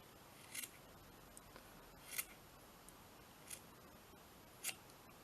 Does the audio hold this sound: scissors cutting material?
yes